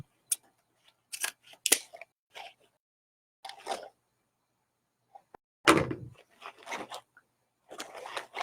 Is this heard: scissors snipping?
yes